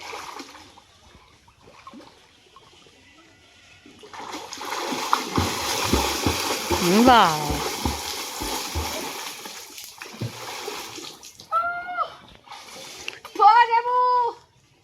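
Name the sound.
water splashing while bathing in a pond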